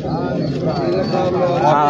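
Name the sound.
pigeons cooing at a pigeon market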